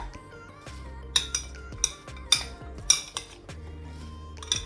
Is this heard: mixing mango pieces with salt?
yes